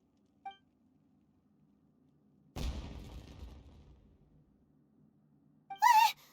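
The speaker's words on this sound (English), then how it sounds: "It sounded like fireworks." Fireworks burst in a video game: a single loud blast with a long crackling, rumbling decay, framed by brief whistling tones, with near-silence in between.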